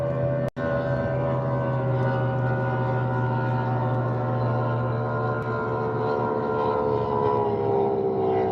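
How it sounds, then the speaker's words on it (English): A speedboat passes on the water near a bass fishing spot, its engine giving a steady, fairly loud droning hum that holds evenly throughout with no talk over it. "Hey, take a look at this speedboat"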